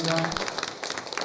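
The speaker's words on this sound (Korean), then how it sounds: "우리 박수로 좀 깊이 환영합시다." A church congregation at an Easter Sunday service breaks into dense, steady applause of welcome, starting right after a brief spoken word.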